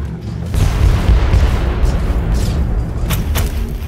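Heavy mortar fire and explosions in the Warhammer 40k Inquisitor video game, a loud sustained rumbling barrage with deep booms and a couple of sharper blasts near the end, no talking.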